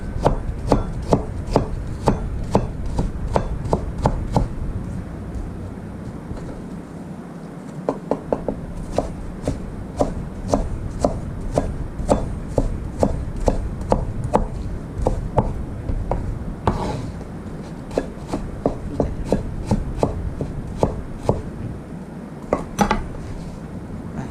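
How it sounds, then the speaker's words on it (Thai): A knife slices through a large onion on a cutting board, making quick repeated chops in a steady rhythm with short pauses, close and crisp, while kimchi is prepared in a kitchen. "นี่จะหั่นเหมือนกันเลย กับหอมหัวใหญ่ หั่นสไลด์"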